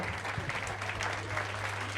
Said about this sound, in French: Vos applaudissements, bien sûr, vos applaudissements